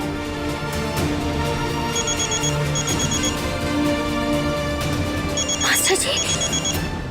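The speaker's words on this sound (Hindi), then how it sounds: "महुआ, तुम्हारा फोन बज रहा है, देखो ना इतनी रात को कौन कॉल कर रहा है।" A mobile phone rings at night with a repeating electronic ringtone in two short bursts. The ringing sits under people talking and a steady background hum.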